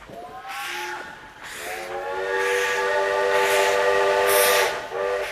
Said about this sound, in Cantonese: 係火車聲啊！